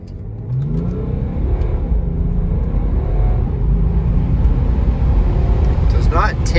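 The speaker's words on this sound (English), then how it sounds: "Let's do a quick acceleration run." A 2018 BMW 540d xDrive diesel sedan accelerating hard from a standstill, its engine note rising through the gears as a loud, continuous rumbling whir heard from inside the cabin, with someone talking over it.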